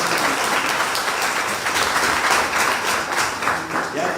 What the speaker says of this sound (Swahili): Hebu tupigeni makofi.